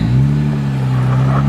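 A Jeep engine on an off-road trail holds a steady low drone with the throttle feathered against the brake, loud and close, the pitch nearly level with slight swells.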